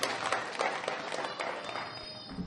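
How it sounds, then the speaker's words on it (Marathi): Indoor audience applause at a university inauguration ceremony for a state-level Kanjeri bhajan competition, a dense steady clatter of many hands clapping for about two seconds, fairly faint. "त्याबद्दल त्यांचं टाळ्या वाजून आपण अभिनंदन करूया."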